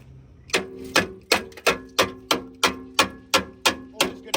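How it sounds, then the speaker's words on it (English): Ratcheting universal hammer working on a truck bumper: about a dozen sharp metallic clacks at a steady rhythm, each with a short ringing tail, loud and close with no talking. "always good to have these universal hammers that also ratchet"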